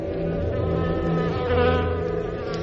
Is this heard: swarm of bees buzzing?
yes